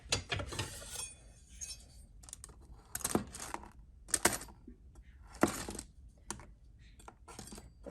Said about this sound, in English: So let me go ahead and cut them down.